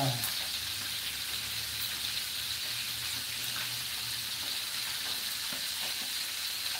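Flour-coated catfish fries in hot oil, producing a constant close crackling sizzle that holds steady for the whole stretch, with a light scrape or stir early on.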